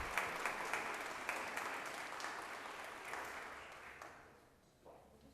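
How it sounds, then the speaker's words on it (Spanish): Applause from the audience at a Jurado Nacional de Elecciones electoral evening talk, with a steady dense clatter of many hands that holds level and then fades out near the end. "Para ella solicitamos un gran aplauso."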